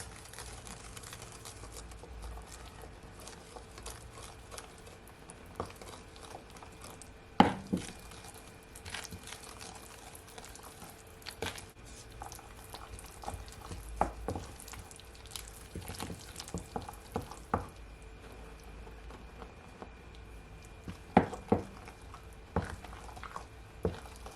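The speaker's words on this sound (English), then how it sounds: "So now I'm just gonna mix it all in." Pancake batter with flour being stirred in by hand, producing soft, irregular wet taps and scrapes against the bowl, fairly quiet and close with a few sharper knocks, with no talking.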